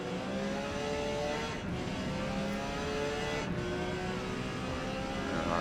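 Engine of a Porsche 956 Group C race car in Forza Motorsport at Grand Oak Raceway, a sustained high-revving drone with shifting harmonic tones as it overtakes other cars, steady and loud without talk.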